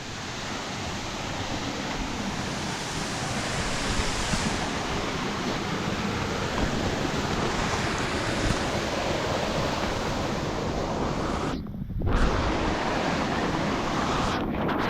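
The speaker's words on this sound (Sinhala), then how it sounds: "මේ බඹරකන්ද දියඇල්ල මුදුනෙන් වතුර වැටෙන හැටි බලන්න" Water falling from the top of Bambarakanda Falls, Sri Lanka's highest waterfall, a broad, steady roar of rushing water mixed with wind buffeting the microphone, with a brief dip near the end.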